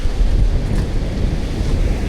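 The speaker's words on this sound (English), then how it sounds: "It's windy" Strong wind buffeting the microphone with a low, constant roar, surf rumbling underneath and no voices, on Oceanside Beach in Tillamook, Oregon.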